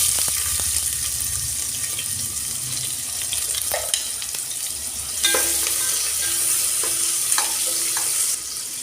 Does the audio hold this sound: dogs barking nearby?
no